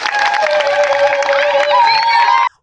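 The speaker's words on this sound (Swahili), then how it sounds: "Jamani, tumpigeni makofi." A crowd at a Kenyan community gathering cheers and claps loudly and up close, with whoops and shouting voices over the clapping, before the sound cuts off sharply near the end.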